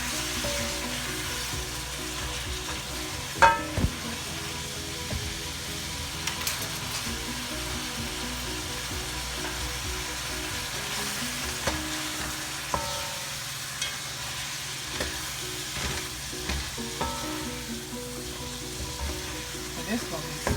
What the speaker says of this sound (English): The guys are on high heat. And I'm gonna stir.